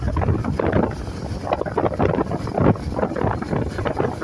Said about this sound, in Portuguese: É vento demais, viu? É muito vento.